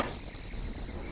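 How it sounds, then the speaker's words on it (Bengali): A train whistles with a steady high tone held for about a second as the train pulls into Gaya station in Bihar, loud and close over a low rumble. "এখন আমাদের ট্রেন ঢুকছে বিহারের গয়া স্টেশন"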